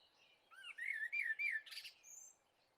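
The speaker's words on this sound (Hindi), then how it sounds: "सारे पंछी वहां से उड़ जाते हैं।" Birds in a Hindi cartoon story twitter and chirp in a short bright burst of rising and falling whistled calls as the flock flies off, alone with no talk.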